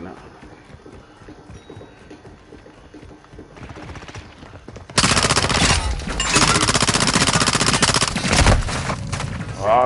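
Heavy gunfire in a shooter video game: quieter game sounds at first, then from halfway a loud, dense, sustained rattle of automatic fire that keeps going to the end.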